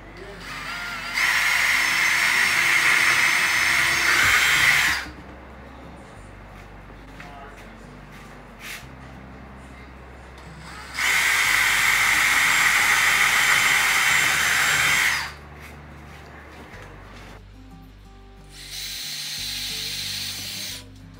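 A power drill whirs loudly through holes in thrift-store farmhouse decor, running in three sustained bursts of about four seconds each, separated by quieter handling and shop noise.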